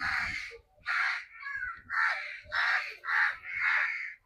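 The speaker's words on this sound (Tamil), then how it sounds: "பாருங்க எவ்வளோ காக்கா இருக்கு பாருங்க." Crows caw repeatedly in a temple grove at Thoondi Karuppasamy temple near Valanadu, Tiruchirappalli, with a run of about seven loud, harsh caws following one another closely with no one talking.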